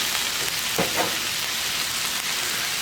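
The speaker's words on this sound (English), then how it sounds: "now let's add our rice wine vinegar" Rice wine vinegar hits a hot pan of pork and cabbage, giving loud, steady frying and sizzling with a short splashy burst as the liquid goes in. A crackling hiss follows and keeps going.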